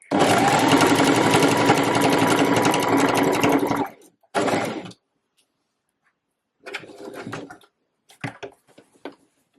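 A sewing machine stitches a reversible waistcoat, running steadily and loudly for about four seconds, then in a short burst, then in shorter stop-start runs of a few stitches with pauses between.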